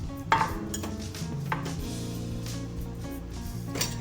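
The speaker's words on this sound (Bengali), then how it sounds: "এবার একটু নাড়তে থাকবে" Crushed ginger and onion are stirred in a cooking pan, giving soft, steady scraping and clinking of a utensil against metal with a few sharper knocks, close up and with no talking.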